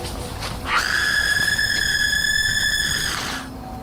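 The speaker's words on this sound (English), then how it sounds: "Some people claim that the scream is fake and edited in." A shrill, piercing scream, reported as a banshee, rises suddenly in a scary setting on a bleak tree-lined path and holds steady for nearly three seconds before cutting off, loud and alone.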